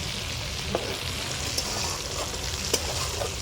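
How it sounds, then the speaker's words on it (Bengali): Food fries in oil in a pan, a steady crackling sizzle with a few louder pops and light stirring scrapes, and no voices. "এই যে লাস্ট ভাজা, এটা আর একটু ভাজা হবে"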